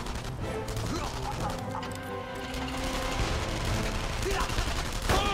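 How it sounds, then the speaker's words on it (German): Gunfire in the World War II shooter Enemy Front: dense bursts of rapid shots and impacts over a steady game soundscape, with a voice talking through parts. "Und jetzt schießen wir den schon in den Rücken"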